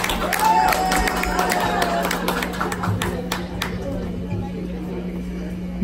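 Party guests clap for a couple's in-laws, a dense patter of applause and crowd murmur filling the room beneath someone speaking over a steady electrical hum.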